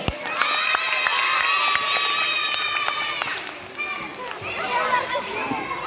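A crowd at a live comedy sketch show cheers and shouts loudly for an eight-year-old boy on stage, a dense swell of voices that holds for about three seconds and then eases into scattered children's chatter.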